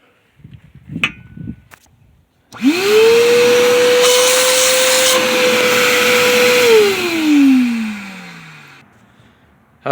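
A power tool threads a hole in the oiling system of a Slant Six engine, spinning up sharply into a loud, steady whine for about four seconds before winding down, with a few faint knocks beforehand.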